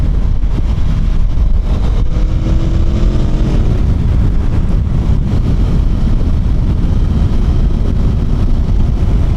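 Aprilia Tuono V4 motorcycle ridden on the road, its engine a steady loud drone mixed with heavy wind rush, rising briefly in pitch as it accelerates and then settling into a constant roar.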